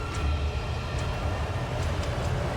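A subway train in the video game Vanquish rolls by with a dense, low, rumbling roar and a few faint high clanks, steady and close for a couple of seconds, and no talking is heard.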